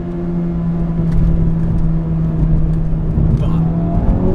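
A hot hatch engine with automatic rev matching heard from inside the car: a steady, droning engine note with a low hum, light revving swells and faint whir, fairly close and without talk.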